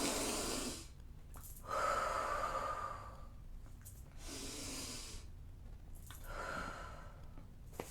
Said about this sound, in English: Let's breathe together.